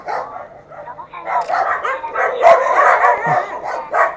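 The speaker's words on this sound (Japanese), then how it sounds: "6匹全部吠え始めた。" Several dogs, around eight, barking together in a loud chaotic chorus on a street near a shopping arcade in Kesennuma, with yips mixed in and someone talking over the noise throughout.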